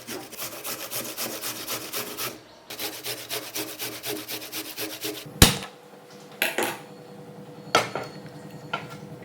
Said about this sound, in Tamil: இந்த இஞ்சியை பார்த்தீங்கன்னா நம்ம துருவி எடுத்துக்கலாம். இப்போ கேரட் துருவுறதில் வச்சு நம்ம துருவி எடுத்துக்கலாம்.